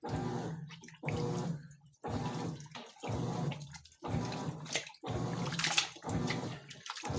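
Water sloshes and splashes in repeated surges, each burst about a second long and separated by brief pauses, as a GE washing machine drum churns 13 full-size bath towels through a rinse cycle.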